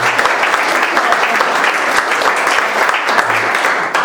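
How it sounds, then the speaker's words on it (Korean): A church congregation at a Sunday youth service applauds to welcome visitors, dense and loud clapping from many people that holds steady throughout and drops off right at the end. "제가 저희 박수로 환영할게요."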